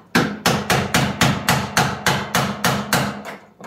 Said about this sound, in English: you can tap it with a chisel and a hammer